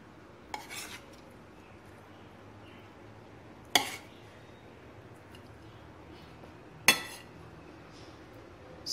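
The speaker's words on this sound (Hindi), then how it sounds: "मैं अभी सर्व प्लेट में निकाल रही हूँ।" Stuffed capsicum (shimla mirch) being served onto a serving plate, with three sharp clinks of a utensil against the dish spaced a few seconds apart over a quiet background.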